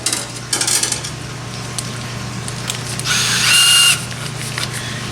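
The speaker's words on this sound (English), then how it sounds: "Put them on the end of a drill." A power drill whirs in short bursts, then a longer, higher-pitched spin with scraping as a plastic deburring bristle brush works inside a 4R100 transmission bore, all up close.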